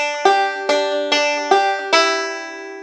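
Banjo picking one measure of Bury Me Beneath The Willow, five bright plucked notes on a steady beat with ringing open strings and fretted notes on the 1st string, clear and close with no talking.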